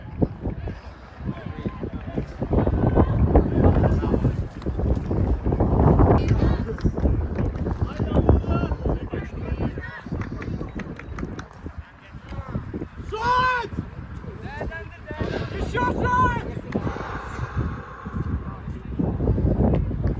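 Gusty wind rumbles and buffets the microphone throughout, with people shouting and talking over it outdoors at a Türkiye vs Ukraine World Boomerang Championship match.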